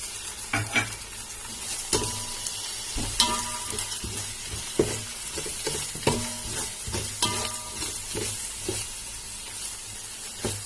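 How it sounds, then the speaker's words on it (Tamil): Chettinad mutton biryani masala is stirred in a pot, with repeated scraping and clinking of a ladle over a steady sizzle, the strokes coming in an uneven rhythm close by and with no voices. "இதையும் நம்ம கிளறி விட்டுட்டு 5 நிமிஷம் மூடி வச்சிடலாம்"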